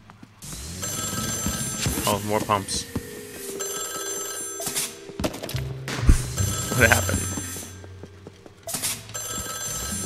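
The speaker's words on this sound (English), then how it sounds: "The phone rings and no one's there." Ringing telephone in the video game Luigi's Mansion 3, with repeated electronic bell trills over game music and effects while a player talks.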